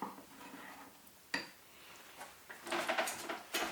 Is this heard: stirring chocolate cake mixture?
yes